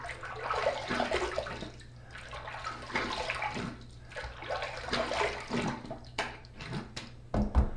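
A razor rinsed under running water from a tap, a close splashing flow that rises and falls in bursts, ending with a few knocks and clinks.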